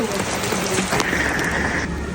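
Rain falls outside as a steady, dense hiss that fills the whole moment, with a brief tonal whine briefly rising above it partway through.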